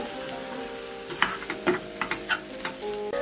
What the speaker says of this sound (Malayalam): ഗരം മസാല ഇട്ട് നന്നായിട്ടൊന്ന് വഴറ്റിയെടുക്കാം.